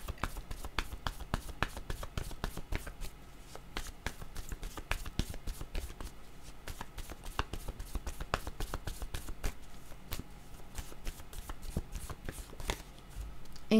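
Cards are shuffled by hand for a card reading: a long run of quick, crisp riffling flicks and taps, close and steady throughout, with no talking.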